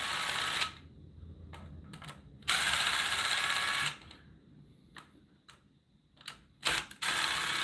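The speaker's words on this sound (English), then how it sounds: "I'm going to loosen all these studs all the way." Engine studs on a WR450 top end being loosened with a tool, in loud bursts of mechanical whirring and ratcheting separated by quieter gaps with scattered clicks.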